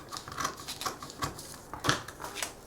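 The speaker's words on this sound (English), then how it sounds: "so we're sewing all this." Fabric being sewn for a garment, a quick run of irregular mechanical taps and patters, close and moderately loud.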